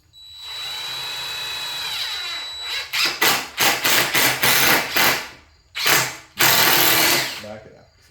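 A DeWalt power drill drives a screw into wood without pre-drilling, whining in a series of short bursts, then two longer runs, loud and close, with brief pauses between trigger pulls.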